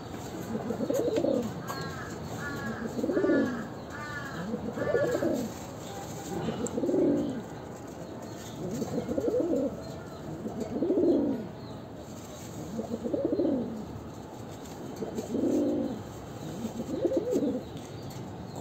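A male pigeon coos close by in a steady series of about nine rhythmic, throaty bursts, with brief pauses between calls and light chirps early on.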